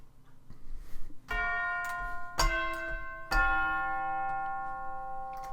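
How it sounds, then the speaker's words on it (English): Orchestral sample-library tubular bells and glockenspiel strike three clear ringing notes at roughly one-second intervals, each sustaining and decaying, quiet and alone. "let's pop the tubular bells in just for and the Glock"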